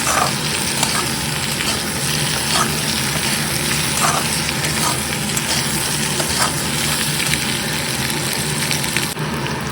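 Mixed vegetables frying and being sautéed in oil make a loud, continuous sizzle, heard close up with occasional stirring scrapes.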